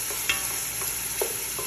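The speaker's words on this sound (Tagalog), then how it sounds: "I-mix ko lang siya." Onion being stirred in olive oil in a pan, a soft scraping stir over a faint steady sizzle with a couple of brief utensil knocks.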